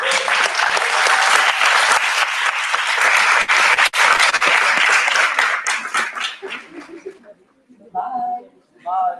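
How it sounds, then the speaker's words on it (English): A conference audience at the IAAS World Congress general assembly applauds after a presentation, a loud, dense burst of clapping that holds for about seven seconds, then thins and fades as a voice begins speaking. "This clap is for you."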